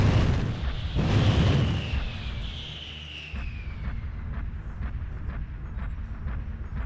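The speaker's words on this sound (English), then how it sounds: "So I'm going to cycle the first 2 groups of weapons." Heavy weapons fire from a Dire Wolf DWF-C mech in MechWarrior Online: a loud booming burst with a long descending whine, then sustained low rumble and a rapid series of repeated discharges continuing to the end.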